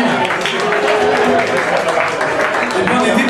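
Applause from a live audience at the Ghost House Live show, a dense, loud and steady wash of clapping with voices and other noise mixed into it throughout.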